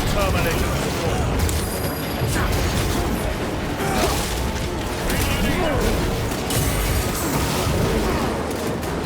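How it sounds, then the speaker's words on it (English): A frag grenade blast in the Warhammer 40,000 game Space Marine 2 booms amid dense, continuous battle noise of gunfire and clanking mechanisms, loud and close throughout. "Throwing frag grenade!"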